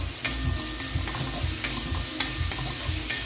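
Carrot stir-fry sizzling hard over a high gas flame in an uncovered pan, a dense steady crackle broken by several sharp clacks of a spatula stirring.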